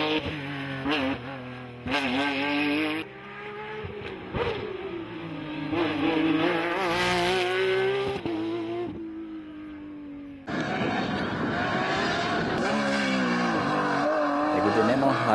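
A Porsche 911 race car from Copy Sport climbs a mountain hill-climb course on Ibiza, its engine screaming through rising gear changes with sharp cuts between shifts and tire squeal, loud and close, while a commentator talks over it.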